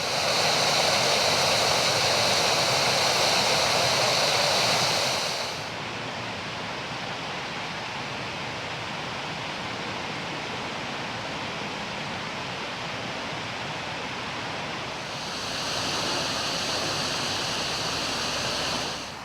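Water rushing into a filling narrowboat canal lock, a steady broadband roar that drops to a softer churning hiss partway through and then swells again, continuous with no voices.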